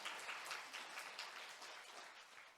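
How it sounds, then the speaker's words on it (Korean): Applause from a church congregation during a Sunday service, a steady, dense wash of clapping that fills the room, fairly soft and without talk, slowly easing toward the end. "우리 한번 그분들에게 격려 박수와 감사 박수 드릴까요?"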